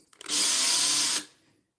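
A power drill bores into sculpting material in one steady, loud whirring burst of about a second, close up, starting and stopping abruptly with no talk.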